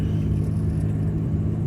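A Nissan Z's engine idles with a low, steady rumble and an even, unchanging drone, close by and heard alone with no talk.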